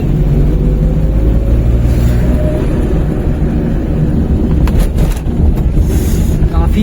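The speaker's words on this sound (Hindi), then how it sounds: "काफ़ी ज़्यादा आवाज़ करती है मेरी गाड़ी सच में" Old Maruti 800 car with a loud, noisy engine, a steady broadband rumble with rattling and wind-like noise throughout, close and continuous with no talk.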